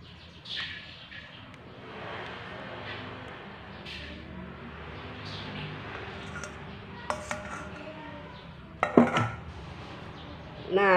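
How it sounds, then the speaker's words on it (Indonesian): Pempek dough pressed and strained through a sieve in a home kitchen, giving soft scraping and rustling with clinks of metal utensils against a bowl, growing louder near the end. "lalu adonannya ini kita saring ya teman-teman"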